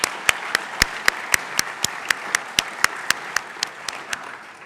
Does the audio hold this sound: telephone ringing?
no